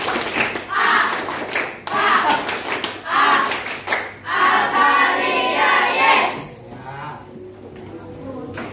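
A group claps hands together in bursts of rhythmic clapping separated by short pauses, fairly close and loud, with some voices mixed in.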